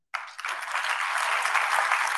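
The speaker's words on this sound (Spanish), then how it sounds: "Quiero también un aplauso." Applause from an audience at a political event starts abruptly and swells into a steady, dense burst of clapping.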